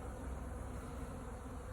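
Honeybees buzz steadily and faintly around a beekeeper's veil outdoors, a continuous low drone with no talking.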